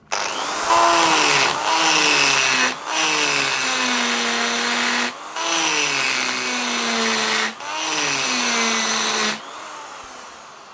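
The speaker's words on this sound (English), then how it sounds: "It's a tungsten carbide cutter. That's a piece of mild steel, nothing spectacular." A tungsten carbide burr in a rotary tool grinding into mild steel, a loud, close whining cut in five long passes with brief pauses between them and the pitch sagging under load, no talk.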